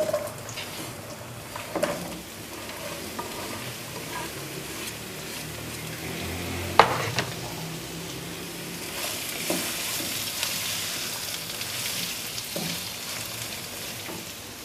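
Bottle gourd pieces drop into hot oil with roasted spices and set off a steady sizzle and fry, with a few clatters and stirring knocks over about fifteen seconds and no talking.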